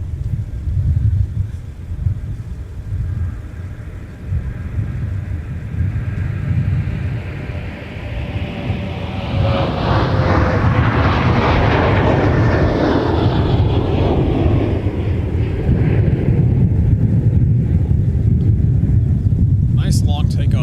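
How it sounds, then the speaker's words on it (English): A Sun Country jet airliner on its takeoff roll at Minneapolis–St. Paul airport, a steady low rumble building into a loud, broad engine roar that swells and sweeps past, then holds strong to the end. "Nice long takeoff roll with that one. Yeah, that was Sun Country 597, headed out to Phoenix."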